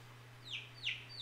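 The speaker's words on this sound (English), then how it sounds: "look at them birds" Baby birds give three short, high, falling chirps, evenly spaced and fairly faint over a steady low electrical hum.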